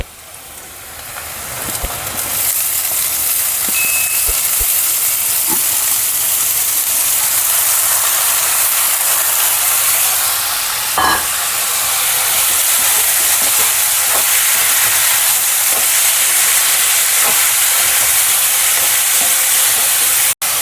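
Moth beans tip into a hot pan for a Maharashtrian matki usal, setting off a loud, continuous sizzle that stays steady for around twenty seconds after a short opening clatter, with no one talking.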